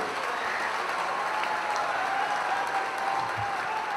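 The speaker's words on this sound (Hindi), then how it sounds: "आपकी तालियां बहुत कमजोर हैं मित्रों" Sustained applause from a crowd at a jetty inauguration ceremony at Ravidas Ghat, a steady wash of clapping that holds at an even level throughout.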